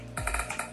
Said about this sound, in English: keyboard sounds